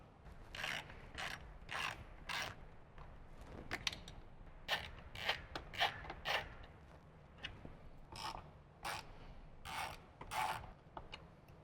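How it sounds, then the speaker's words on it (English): Bolts being backed out with a 5/32 Allen wrench from the top plate of a 2014+ Harley-Davidson Touring speaker pod, giving repeated short ratcheting, scraping clicks in bursts, close up, with no talking. "Now we're going to go ahead and remove our 4 bolts that attach the top plate to the speaker pod with a 5/32 Allen wrench."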